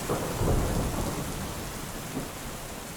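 A typhoon at sea brings dense, steady heavy rain mixed with deep rolling thunder, loud and unbroken throughout.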